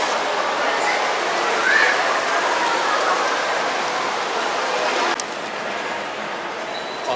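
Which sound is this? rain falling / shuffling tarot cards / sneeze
rain falling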